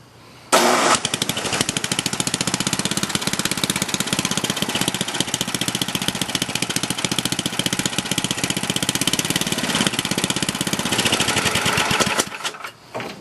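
A John Deere 1026 tractor engine runs steadily after a cold start, a loud, continuous rapid chugging that fires up abruptly, holds an even idle for about eleven seconds, then cuts off.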